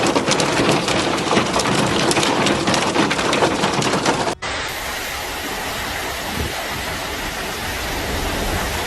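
Steady rain falls in Turaif Governorate, Saudi Arabia, a dense continuous hiss that fills the whole stretch, with an abrupt cut partway through and a slightly softer wash of rainfall afterward.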